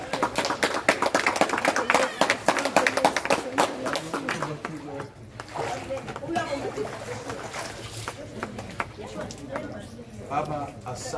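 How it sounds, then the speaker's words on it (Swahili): After a baptism in a church service, a congregation breaks into rapid, dense hand clapping that is loud at first and then thins into scattered claps, with voices speaking and calling out over it. "Makofi."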